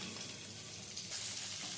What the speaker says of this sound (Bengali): সবজিগুলো যখন এরকম হালকা করে ভাজা হয়ে যাবে